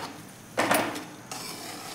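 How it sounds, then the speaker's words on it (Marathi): A spoon scrapes and knocks against a hot pan while stirring a green moong ladoo mixture with melted jaggery, two short clattering bursts against a quiet background. "आता हे व्यवस्थित आपण मिक्स करून घेऊया छान असं"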